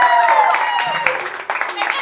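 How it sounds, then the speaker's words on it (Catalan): Theatre audience applauds a youth theatre group's performance, a short burst of clapping mixed with voices and a high whistle-like tone, fairly close and loud, fading slightly toward the end. "Un aplaudiment per la Marina"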